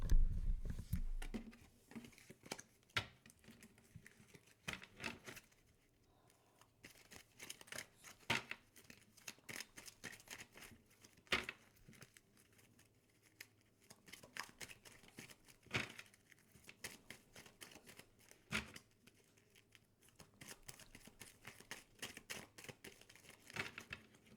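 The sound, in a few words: tarot cards being reshuffled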